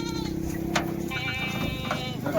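A Kathewadi goat, a pregnant doe among a herd for sale, gives a couple of wavering bleats close by, overlapping with a voice talking.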